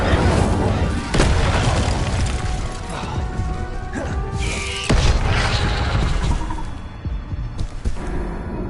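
A fiery Incendio spell blasts off in the Hogwarts Legacy video game, with booming impacts and crashing bursts over a dense, continuous mechanical rumble, one heavy hit near 1 second and another near 5 seconds.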